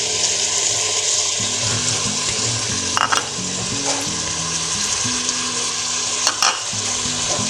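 Spices sizzle in hot oil in a pan while being stirred for an aloo gosht curry, a steady close frying hiss broken by a few sharp scraping clicks of the spoon.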